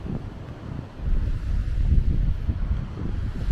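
Atlantic waves breaking and washing over granite rocks on the Porto coast, a steady low surf roar that swells after the first second, with gusting wind buffeting close by.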